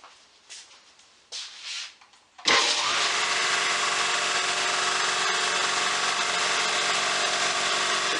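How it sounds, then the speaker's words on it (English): An air compressor in a home workshop shop kicks on with a sudden loud burst, then runs at a steady, even motor drone close by; a few faint knocks precede the start. "I know somebody's going to ask how loud the compressor is,"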